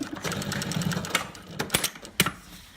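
A Juki LU-2810-7 walking foot lockstitch sewing machine runs in short stitching bursts, with a fast mechanical chatter and a few sharper clicks toward the end, heard close up.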